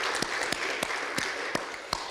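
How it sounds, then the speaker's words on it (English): Audience applause at a student innovation event's closing, a dense, fairly steady wash of clapping with a few sharper individual claps standing out over a little more than two seconds. "A big round of applause."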